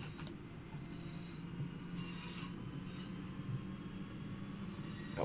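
A Class 323 electric train in Regional Railways livery, heard from the driving cab, rumbles over a diamond crossing between Birmingham and Lichfield with steady running noise and several clanks and clicks from the wheels.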